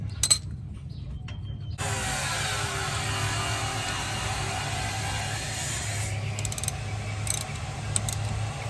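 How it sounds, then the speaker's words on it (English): Ratchet wrench at work on the rear brakes of a 2004 Toyota Sienna, with faint mechanical clicks over a steady background hum and no voices. "Get your ratchet."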